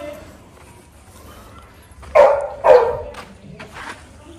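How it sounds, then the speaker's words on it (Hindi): Dogs released from an enclosure bark in two loud close bursts, followed by fainter yips and whimpers against a quiet background. "सब डॉग्स को अब छोड़ने वाले हैं"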